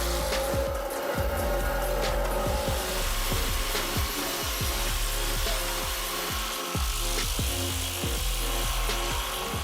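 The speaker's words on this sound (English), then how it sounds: "a self-propelled barrel grinder equipped with a powerful Scania engine with a capacity of 550 horsepower" A self-propelled barrel grinder with a 550-horsepower Scania engine shreds wood with a loud, steady engine roar and repeated grinding crunches and thumps as material feeds through, all heard close and continuous.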